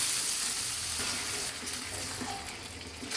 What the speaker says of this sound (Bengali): ছোলা দিয়ে আমি ভালোভাবে একটু ভেজে নিব কয়েক মিনিট।